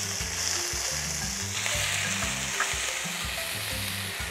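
Onions sizzle and fry steadily in hot oil in a pan for a Trinidadian stew saltfish, a loud, continuous crackling hiss with faint stirring, no talk.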